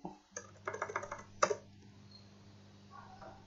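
Keys typed in short bursts on a computer keyboard, close and fairly quiet, with clicks clustered in quick runs and pauses between them over a steady low hum.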